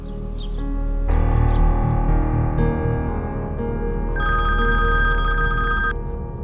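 A telephone rings loudly and steadily in a Pakistani drama scene, a continuous electronic ringing tone that swells and shifts pitch partway through, heard alone without talk.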